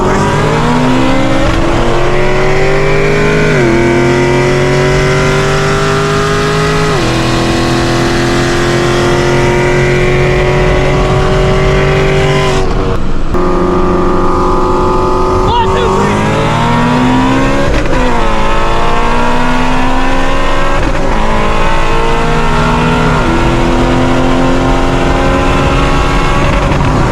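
A Dodge Hellcat and an 800-horsepower Shelby GT350 drag racing: loud, sustained engine roars climbing through repeated gear shifts, a brief drop in the middle, then another hard acceleration run, close and dominant.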